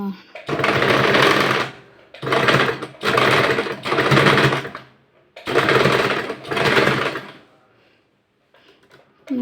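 A domestic sewing machine runs in several loud bursts of rapid stitching, each lasting about a second, separated by short pauses. It sounds close, and there is no talk over it.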